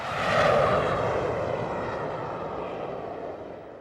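Military aircraft engines roar on an aircraft carrier in a loud, broad jet rumble that swells early, then slowly fades as the plane pulls away, with no talking.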